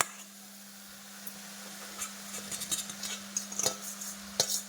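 Cooked, cooled rice being stirred into soybean pulao in a pan, with soft scraping and occasional clinks of the spoon against the metal, fairly quiet and irregular with no talking.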